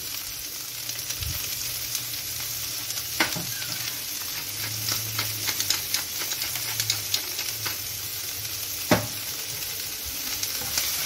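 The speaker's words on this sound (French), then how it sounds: "de l'huile d'olive à chauffer et nous allons faire revenir les courgettes et les cébettes" Sliced courgettes and spring onions sizzle steadily in hot olive oil, a close, continuous crackling hiss broken by clinks and scrapes of stirring, with no one talking.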